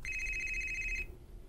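A telephone rings once, a bright warbling electronic ring lasting about a second before it cuts off, with faint room noise behind it.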